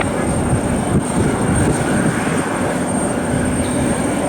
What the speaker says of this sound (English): American 2331, 737-800 heading to Dallas-Fort Worth.